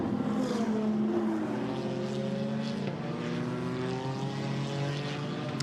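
A Toyota GT4 race car laps the Zandvoort circuit during GT4 European Series qualifying, its engine note rising and sweeping steadily through the gears, loud and continuous with other cars audible around it.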